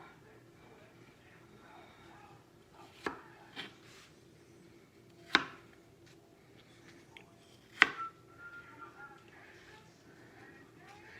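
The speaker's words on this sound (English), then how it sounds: "Then just continue on dicing until you've got all of your apple cut up" A knife dices apple on a cutting board, giving a few sharp, separate chops with gaps between them over a low background hum. The cuts are close by and moderately loud.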